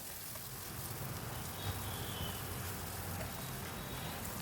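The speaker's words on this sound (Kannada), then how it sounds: "ಫ್ರೈ ಆಗ್ತಾಯಿದ್ದಂಗೆ ಈರುಳ್ಳಿ ಹಾಕಬೇಕು." Chopped onion frying in a pan for palak khichdi, a steady close sizzle and crackle of hot oil that runs without a break and with no voices.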